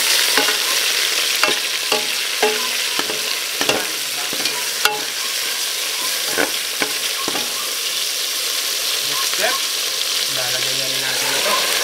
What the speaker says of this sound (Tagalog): uunahin na natin ang paggisa ng taba